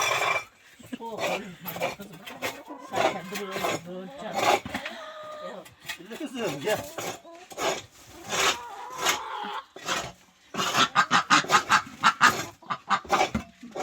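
Chicks and chickens peep and cluck in a chicken coop while the space underneath is being cleaned, busy overlapping calls mixed with scraping and rustling, and people talking nearby.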